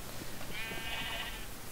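Sheep bleating in the Minecraft video game, a single wavering bleat of about a second over a steady background hum.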